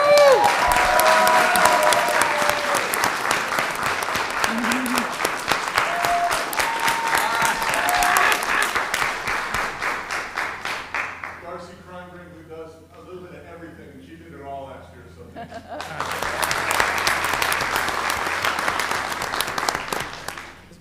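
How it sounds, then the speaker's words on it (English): Loud, sustained applause with cheering fills a school board meeting room for a staff member, dipping briefly in the middle as a voice speaks, then swelling again. "she deserves a round of applause"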